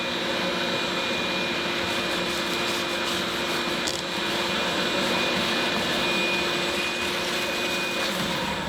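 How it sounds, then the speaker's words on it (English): A vacuum cleaner sucks loose material off a wire-brushed surface, a loud, steady broadband roar that holds unbroken for the whole stretch with no talk over it. "vacuum that off, and clean it up"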